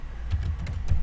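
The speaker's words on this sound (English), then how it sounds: "sorry, here the keyboard," Rapid keystrokes on a computer keyboard, a quick, uneven run of close, soft clicks over about a second with no speech.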